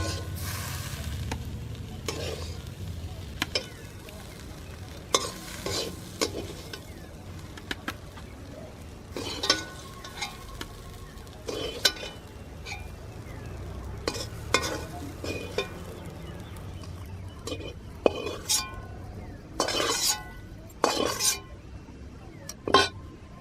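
Cooked drumstick leaves are scraped from a pan onto a plate in a village kitchen, with intermittent sharp utensil scrapes and clinks over a faint background hum.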